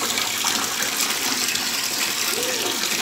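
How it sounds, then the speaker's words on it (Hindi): Water flows steadily through a homemade syphon pipe, producing a continuous gushing, splashing stream that holds even and fairly loud for the whole stretch, with no voices over it. "पानी पीस रहा है ये।"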